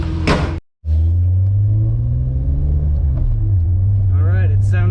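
A car engine idles and rumbles steadily after its supercharger has been removed, a close, loud low drone that cuts out briefly near the start and then runs evenly. Someone speaks over it.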